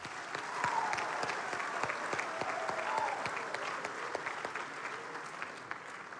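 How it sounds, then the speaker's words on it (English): An indoor audience at an FFA convention session applauds steadily, with dense clapping at an even level and no voices over it. "Let's give the course another well-deserved round of applause."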